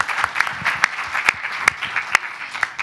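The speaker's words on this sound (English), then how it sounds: "Round of applause." A lecture audience claps at an academic event, producing loud, dense, sustained applause with a few sharper individual claps popping out above the steady wash of hands.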